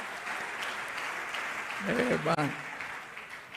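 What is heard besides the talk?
church audience applauding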